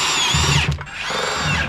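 Up close, a power drill whirs loudly while driving an 8-10 socket on a John Deere Gator 855D utility vehicle, in two short bursts separated by a quick stop.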